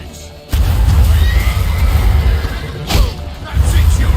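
Horse neighing in the video game The Witcher 3: Wild Hunt, a loud whinny heard amid rumbling, thudding action noise, with shouted voices during the scene.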